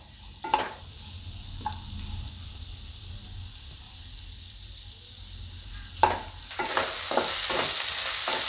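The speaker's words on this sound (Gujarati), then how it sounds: "ડુંગળીને આપણે આમાં પાકવા દેવું એકદમ સરસ નરમ થઈ જાય ત્યાં સુધી એમ. તો વચ્ચે વચ્ચે આપણે હલાવતા રહેવું." Onions softening in oil in a pan for a Gujarati zunka, a quiet steady sizzle with a few spatula scrapes, then louder, faster stirring strokes near the end as the frying hiss rises.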